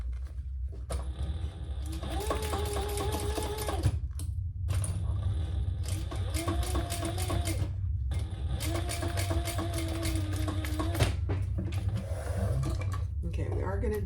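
Sewing machine running stitch bursts along a leather handbag seam, several runs of a few seconds each separated by brief pauses, loud and close over a steady low hum, with a voice talking in between.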